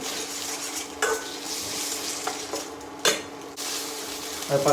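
Ginger garlic paste sautés in a pan for village-style little millet biryani, a continuous sizzle with repeated spatula scrapes and metallic clinks against the pan at irregular intervals, close and fairly loud.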